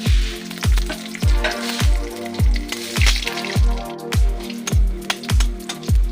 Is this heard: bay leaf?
yes